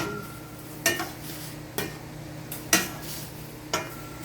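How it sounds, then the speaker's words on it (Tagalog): A spoon clinks against a cooking pot while long green chili peppers and vegetables are stirred, five distinct metallic taps spaced about a second apart over a soft simmer, close and fairly loud. "tapos lagay na po natin yung sili siling haba tapos halu-haluin po natin"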